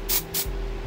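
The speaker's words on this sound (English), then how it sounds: "you spray it on something first before you go ahead and spray it on your hair" Two quick bursts from a hair spray can nozzle, test-sprayed onto something before use on a synthetic wig's hair, each a short hissing puff with a brief pause between, close by over a steady low hum.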